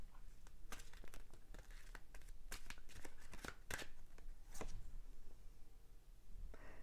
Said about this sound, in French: je vais tirer une autre carte pour avoir un peu plus